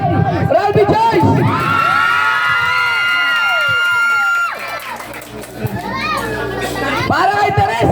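A crowd of children and adults cheers and shouts loudly at a Planet Soweird first-anniversary event, a close burst of excited yelling that dips briefly before the shouting swells again.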